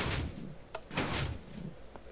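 A door opening in the co-op video game It's Better Together, heard as a few short mechanical thunks and a broad whoosh, close and moderately loud with no talking.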